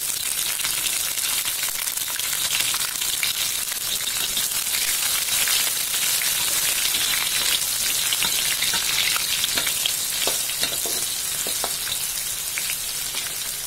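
Red and small green chilies with onion and garlic stir-fry in hot oil, a loud continuous crackling sizzle with light stirring scrapes throughout, no talking.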